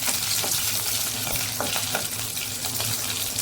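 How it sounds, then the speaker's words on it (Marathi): Curry leaves and green chilies with mustard seeds crackle in hot oil in a pan for vermicelli upma, a bright close sizzle broken by several sharp spatula scrapes as they are stirred. "कढीपत्ता हिरवी मिरची व्यवस्थित आपण मिक्स करून घेऊया"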